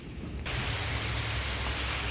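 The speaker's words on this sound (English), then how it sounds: "hopefully you can hear me over this rain" Steady rain pours down outdoors during radiator replacement work on a 2007 Honda Pilot, a dense continuous hiss that starts abruptly and stays loud and close throughout, with no talking.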